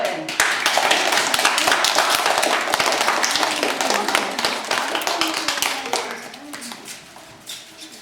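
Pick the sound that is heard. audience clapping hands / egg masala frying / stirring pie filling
audience clapping hands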